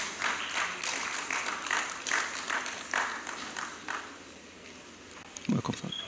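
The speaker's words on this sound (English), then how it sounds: "Please, a loud round of applause, please." Audience applause fills a university conference hall at Veritas University in Abuja, a dense, steady wash of clapping that lasts several seconds at moderate loudness, with a few sharper claps near the end.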